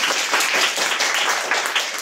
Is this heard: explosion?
no